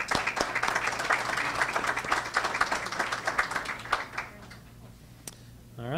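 An audience applauds a graduate at a technical college ceremony, a few seconds of dense clapping from a modest crowd that tapers off to scattered claps and a quiet room.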